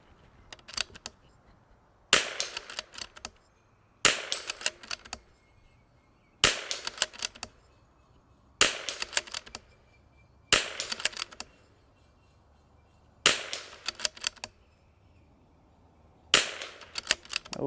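An MCR MOD X rimfire rifle fed from an L3I magazine fires eight sharp, loud shots, each about two seconds apart, with a short ringing echo after each report.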